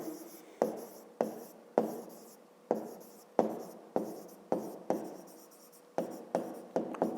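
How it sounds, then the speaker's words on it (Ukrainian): Pen writing a math solution by hand on paper, a series of about a dozen quick scratchy strokes in uneven rhythm, close and fairly quiet, with no talk. "Отже, записуємо тоді."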